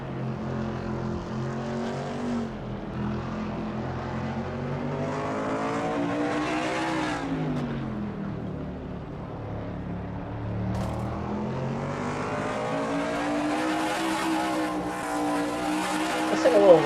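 Race cars in the NNSCRA Castrol GTX Cup Series drone through turn 6 at Sonoma, a continuous engine roar that rises and falls in pitch through the corner, steady and fairly loud with no talk over it.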